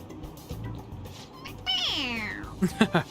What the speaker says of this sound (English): It's a stuffed animal. Yeah, it's just a toy. It meows